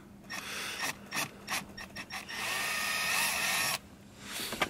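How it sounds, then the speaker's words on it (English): Short bursts of a high-pitched power drill whine and grind as it bores into a car dashboard panel, then one longer sustained drilling run, close and fairly quiet, with brief pauses between. "he's gonna just drill that joker out"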